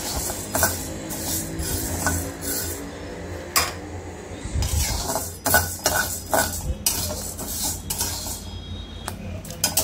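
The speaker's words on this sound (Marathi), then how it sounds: "हे बघा, गहू सुद्धा चटचट वाजतायत आणि त्याची लाही तयार व्हायला सुरुवात झालेली आहे" Wheat grains dry-roasting in a pan for a multigrain bhajani flour, with sharp metallic scraping and stirring over a steady crackle and clatter of grains against the pan, close and continuous.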